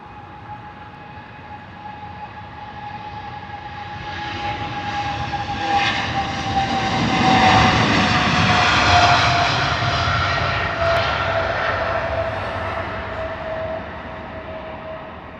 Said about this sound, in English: Our second to last British Airways 777 departure on today's live stream.